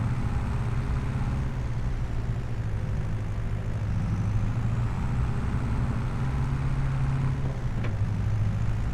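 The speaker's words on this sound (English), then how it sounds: "you can hear the turbo whistling" A Fendt tractor engine runs continuously up close, with a low steady drone; a faint turbo whistle is barely distinguishable above the rumble, and no one speaks.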